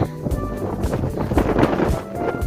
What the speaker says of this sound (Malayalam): കാറ്റിൻ്റെ ഇത് വേഗതയിൽ മഴ എവിടെയൊക്കെയോ തെറിച്ച് പോകുന്നുണ്ട്